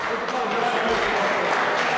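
A Test match cricket crowd applauding after a wicket seals victory, a dense, continuous wash of clapping and cheering from a large stadium audience, loud and sustained without a break.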